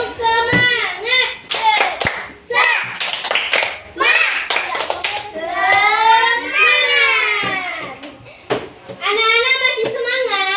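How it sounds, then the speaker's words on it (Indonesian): Young preschool children do a rhythmic spirit clap in a classroom, with fast patterned hand claps mixed with their chanting voices and a teacher's voice, loud and close throughout. "Tepuk semangat."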